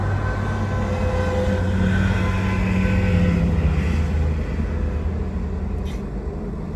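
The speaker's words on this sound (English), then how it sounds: "That's the bus." A bus passes near a parked convertible, a steady low engine rumble with a rising and falling tonal whine that swells mid-way and then slowly recedes, with no speech over it.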